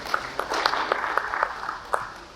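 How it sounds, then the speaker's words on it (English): Audience applause at a veterans honoring ceremony, a brief, moderate patter of scattered claps from a small crowd, fairly close, with a few distinct sharp claps standing out before it thins. "Let's give him a round of applause."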